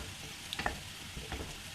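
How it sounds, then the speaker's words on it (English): Onions frying in a pan, a quiet even sizzle running throughout, broken by a few brief scraping and clinking sounds as they are stirred. "As the onions are being fried"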